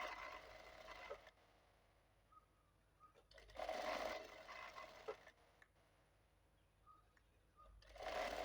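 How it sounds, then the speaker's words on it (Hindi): Sewing machine stitching the folded seam of a puff sleeve, running in a few short bursts separated by quiet pauses, close and fairly faint with no talking. "इस तरीके से आप फोल्ड करके इसको पूरा स्टिचिंग कर दीजिए।"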